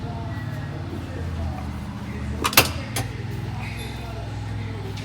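A side door on a 2021 Yamaha Rmax limited-edition side-by-side shuts at a powersports dealership, giving a couple of sharp, close latching thuds over a low steady background rumble.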